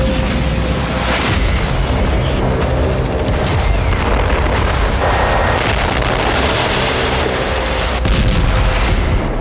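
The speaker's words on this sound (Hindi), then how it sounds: "पहले गाजा बम धमाकों से समतल हुआ" Heavy bomb blasts in Gaza rumble in a dense, continuous roar of booms and crackling impacts, loud and sustained throughout with no pauses.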